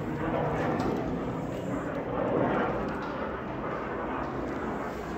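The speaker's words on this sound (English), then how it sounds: "We've got another plane going overhead." An airplane flying overhead, heard as a steady, fairly distant drone that swells slightly and then holds as it passes.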